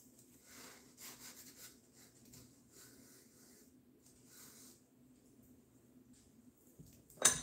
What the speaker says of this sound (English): Let's sand this area.